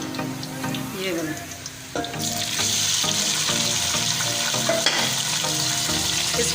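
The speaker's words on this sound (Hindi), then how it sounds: "उसमें कीमा डाला, ये कीमे को भून लिया।" Minced meat sizzling loudly in a pan with light-browned onions, a dense, continuous frying hiss that swells as the mince goes in, with scraping and clanks of a spoon stirring, up close and without speech.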